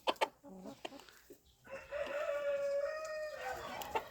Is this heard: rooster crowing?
yes